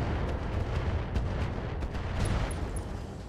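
Rockets fire in the mech game Roguetech, a dense continuous roar of booming blasts and rumbling impacts that fills the whole stretch with steady loudness and a few faint high pings near the end.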